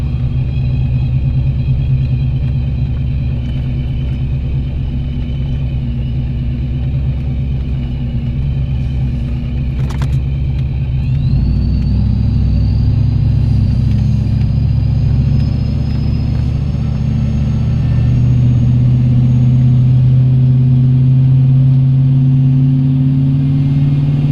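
An LS-swapped Trailblazer engine runs steadily with a deep, loud rumble. It climbs into a higher-pitched rev partway through and holds a raised drone, with no voices.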